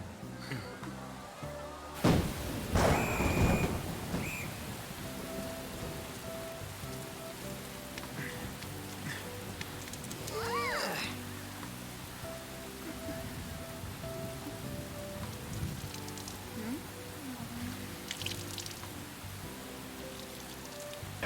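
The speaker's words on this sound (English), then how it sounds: "There's the rain." Steady rain hisses through a Persona 5 Royal cutscene, with a sharp loud crack near the start and a soft musical score underneath, while someone talks over it at times.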